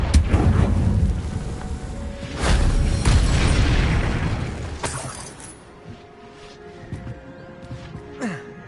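Confringo blasting spell in Hogwarts Legacy: booming explosive bursts, with a big blast near the start and more around the middle, followed by crackling debris and fading rumble.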